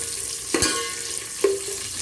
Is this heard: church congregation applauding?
no